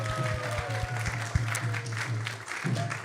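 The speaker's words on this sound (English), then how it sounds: "let's give him again a big round of applause" Steady applause from an audience, a continuous wash of clapping with a low hum underneath, no speech.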